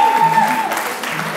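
Applause from a crowd at a diversity festival in Paris's 17th arrondissement, greeting a musician with a guitar; steady clapping fills the whole short moment, with a faint tone and some voices underneath.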